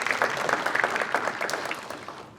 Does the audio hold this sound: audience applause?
yes